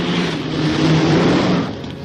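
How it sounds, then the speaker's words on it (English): A car engine rumbles steadily and fairly loud for a couple of seconds, swelling slightly as it nears, with no voices. "I hear a car"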